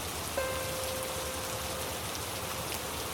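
Steady rain falls in an even, close hiss that covers the whole stretch, with a single soft tone sounding briefly near the start.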